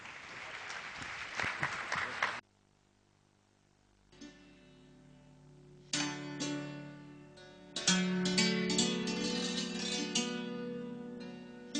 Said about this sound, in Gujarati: તાળીઓના ગડગડાટની સાથે.